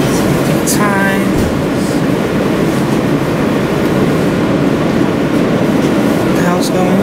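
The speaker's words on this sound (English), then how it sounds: "This is the last stop on this train." A New York Second Avenue subway train at its last stop, a loud steady rumble filling the station with brief higher squeals, while people talk over it.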